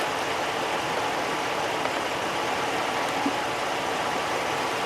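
A pickup truck fitted with a Fisher HT snowplow idles nearby with a steady, unbroken low rumble and hiss, with no voices.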